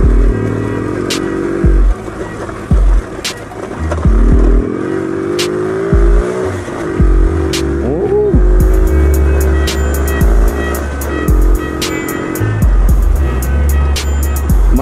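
A Trail 70 CT70-clone mini motorcycle rides off road, its small engine droning loud and close with rising and falling revs, rattles and clanks over rough ground throughout, no talk.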